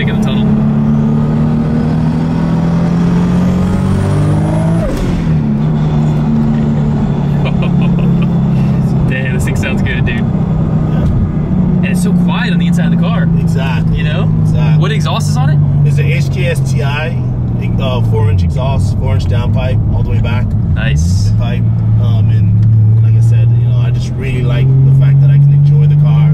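An 800-horsepower Toyota Supra with a stock 2JZ-GTE engine and turbo kit roars through a tunnel, loud and close, its pitch rising and falling through revs and shifts, with people talking over it.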